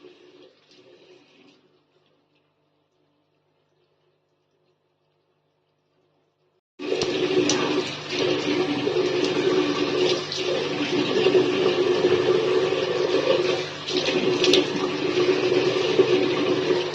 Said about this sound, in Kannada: ಸೊ ಈಗ ಫೇಸ್ ವಾಶ್ ಮಾಡ್ಕೊಳ್ಳೋಣ.